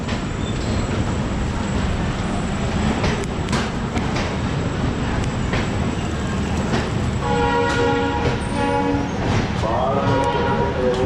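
An express train pulls out of Ambala Cantt station, with a loud steady rumble of wheels and carriages throughout and a sustained horn-like tone and squealing appearing in the second half.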